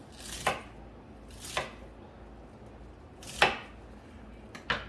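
A knife chops through a bundle of asparagus held together with rubber bands, four separate crisp crunching cuts onto a board at irregular intervals, close and clear with no talk.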